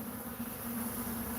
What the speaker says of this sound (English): So the remnant bees are balling up.